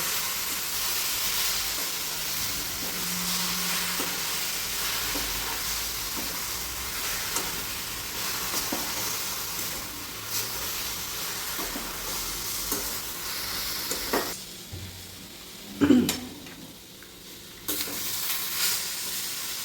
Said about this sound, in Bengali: কিছু কিশমিশ দিয়ে দেবো সব ভালো করে একসঙ্গে মিশিয়ে নেবো